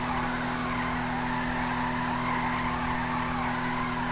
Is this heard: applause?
no